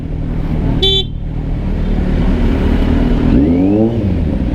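Busy roundabout traffic with a steady roar of car engines close by, a sharp car horn toot near the start and another honk or engine pass later, no talking.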